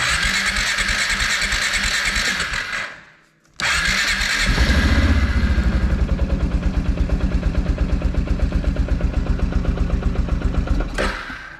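A Kawasaki Prairie 360 ATV engine cranks, pauses briefly, then catches and settles into a loud, close, rapid steady idle that runs on with a rhythmic throb, the starter whirring again just before it.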